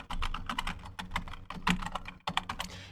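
Keys clatter on a computer keyboard as an Aadhaar number is typed, a quick irregular run of close, crisp taps with a brief pause near the end.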